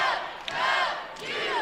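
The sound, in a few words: volleyball crowd chanting WWU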